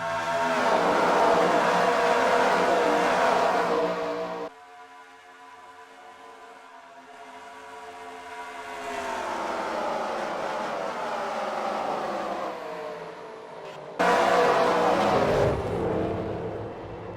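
Race cars accelerating after the pace car pulls off in a stock car racing video game, with loud engine roar, a sudden cut to a quieter rising whine, then another loud blast of engine noise near the end.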